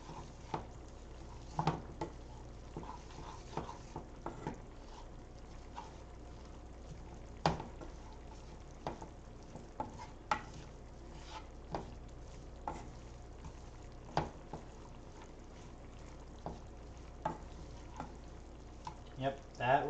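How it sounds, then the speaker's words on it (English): Kenyan chicken curry with toasted coconut stirred in a pot: soft scraping and bubbling sizzle with scattered sharper knocks of the spoon against the pot, repeated irregularly at close range. "Give it another stir."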